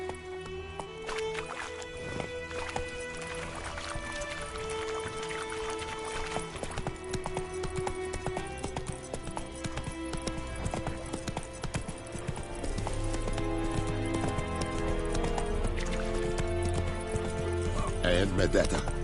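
Hooves of the horse Roach clip-clop at a gallop in The Witcher 3: Wild Hunt, a steady rhythmic beat running under loud orchestral game music, with a voice speaking over it.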